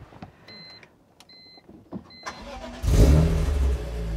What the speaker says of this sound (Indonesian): Sekarang kita dengerin mesinnya. Mesinnya bunyinya masih mirip sama E36